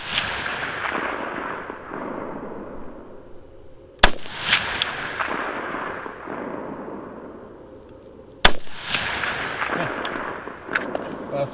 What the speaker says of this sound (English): Now we're shooting at the bottom left target